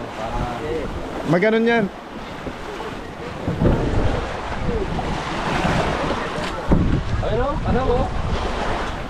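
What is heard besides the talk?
big ocean waves heard from a boat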